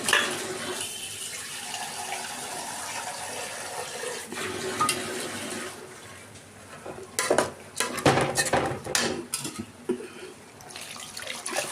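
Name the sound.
water poured into a pot of rice for khichuri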